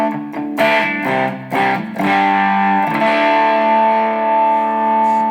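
Enya Sonic JT electric guitar through its ceramic bridge humbucker, playing loud distorted chords with an aggressive, effects-laden tone, several struck chords ringing into a long sustained one with no voice present.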